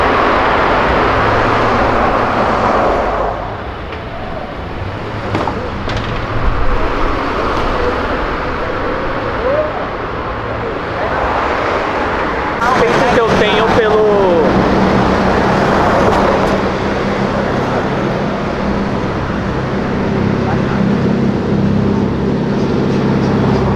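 A turbocharged Chevrolet Caravan with only a filter and exhaust roars loudly and continuously, its engine drone rising and falling with bursts of whooshing turbo and exhaust noise, no voices over it.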